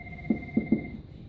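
A phone ringtone goes off in a quiet room, three short bright chirps in quick succession over a faint steady tone, with no one speaking.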